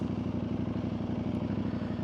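A Yamaha MT-07-style parallel-twin motorcycle with a 270-degree crank idles with a loud, close, lumpy and uneven pulsing beat, running steadily on its own with the middle exhaust canister removed.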